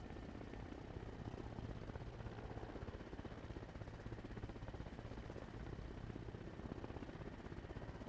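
Helicopter in the video game Arma Reforger, a steady rhythmic rotor chop with low engine drone, faint and continuous throughout with no speech.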